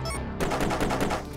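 Gunfire in the game Shakedown Hawaii, a rapid burst of repeated shots rattling in quick succession at moderate loudness with no speech.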